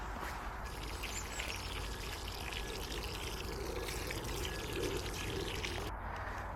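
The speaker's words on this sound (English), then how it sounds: "So let's water them in." Water poured over newly planted garlic on a garden plot, a steady continuous splashing and trickling at moderate distance, with faint birdsong in the background.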